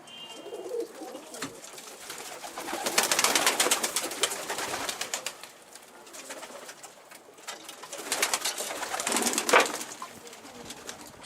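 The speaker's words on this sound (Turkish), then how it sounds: "Beyaz da çıkarayım kanat sesini duyuyoruz." White pigeons cooing close by, with soft wing flaps now and then, rising in two louder bursts among the birds.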